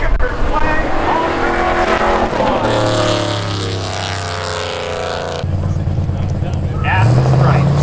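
Race cars roar down the straight at Seekonk Speedway during spectator drag racing, a loud sustained engine drone rising and shifting as they pass, with an announcer talking over the noise throughout.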